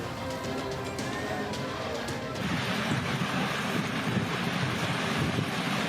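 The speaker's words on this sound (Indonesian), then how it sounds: "Video amatir warga merekam angin puting beliung yang menerjang permukiman Desa Bugis" A whirlwind tears through the homes of Desa Bugis village. It starts as a breezy rush, then turns abruptly into a loud, buffeting roar that pounds the microphone without letup, with no voices.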